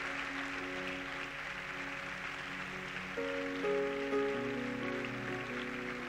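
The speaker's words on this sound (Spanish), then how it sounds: "Quiero que usted lo reciba con un aplauso, por favor." A church audience claps steadily in a dense, rain-like wash during a sermon by Pastor Sergio Belart. Sustained musical tones run underneath, and no one speaks.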